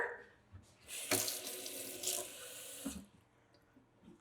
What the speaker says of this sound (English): Then we're just gonna fill it up with cold water